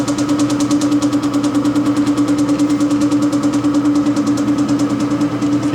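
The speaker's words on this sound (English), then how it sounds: "he'll be putting the mixture into one of our VS1000 degassing units" A vacuum degassing unit running on a silicone mixture, loud and steady up close, a rhythmic pulsing motor drone with a fast, even chugging beat and no talking.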